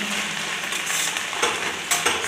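Saga greens frying in oil in a pan for Odia saga bhaja, stirred with a steady bright sizzle and a few louder scrapes of the spoon, close and alone.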